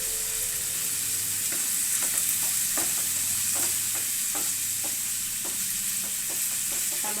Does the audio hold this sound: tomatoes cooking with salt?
yes